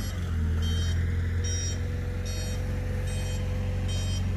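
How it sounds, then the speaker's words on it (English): Forklifts and heavy equipment running around an auction yard of collector cars and trucks, a continuous low engine drone with a repeating electronic reversing beep pulsing about every second, steady and fairly close. "Hear all the forklifts and equipment running around."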